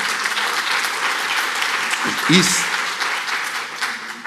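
An audience at an education forum applauds steadily, with a brief voice cutting in partway through the clapping.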